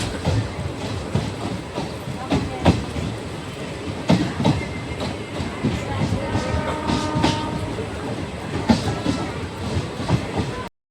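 Porbandar–Jetalsar passenger train (59562) running at speed on the tracks, heard from inside: a steady rumbling roar with rhythmic wheel clatter and rattling carriages, continuous throughout with some faint voices underneath.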